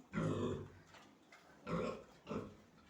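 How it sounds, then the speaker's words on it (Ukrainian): Pigs eating from troughs grunt nearby in three or four short, rough bursts with quiet gaps between them. "Як настоящі свині з коритів."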